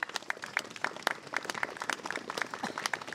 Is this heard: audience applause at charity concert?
yes